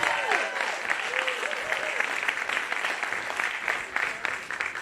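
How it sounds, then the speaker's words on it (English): Audience at a CONvergence 2021 convention panel game show claps in a sustained round of applause, moderately loud and even, with voices calling out briefly over the crowd near the start. "Round of applause for Lindsay and your champion, Scully."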